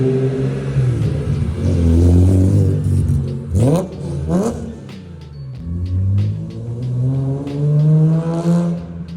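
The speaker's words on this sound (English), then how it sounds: "The exhaust on this car with the roar of the carbon airbox induction noise is immaculate." A BMW M3 GTR widebody with a side exhaust, six-to-one headers and a carbon airbox revs loudly and close up, rising and falling in several throttle blips with sharp sweeps and a steady idle rumble between.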